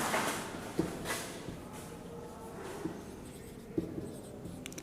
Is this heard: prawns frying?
no